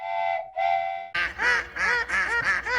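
Ducks quack loudly and close by at dawn beside a camper van, a couple of drawn-out calls followed by a rapid, rhythmic series of harsh quacks.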